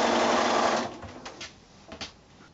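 A sewing machine stitches pairs of 2 1/2 inch quilt squares together, a loud close whirring run for just under a second that stops abruptly, followed by a few soft handling clicks and rustles.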